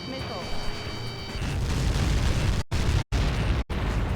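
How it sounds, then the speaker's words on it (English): A heavy Helios projectile impact in the Ace Combat 7 air-combat game detonates into a long, roaring explosion that rumbles on for several seconds, cut by brief dropouts near the end. "How many got caught in that explosion?"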